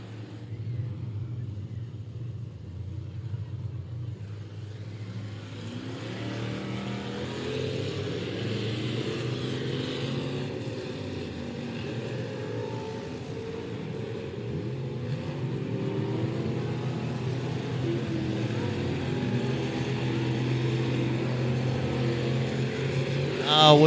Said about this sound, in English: And Thunder Group number 2 going to roll out on the racetrack.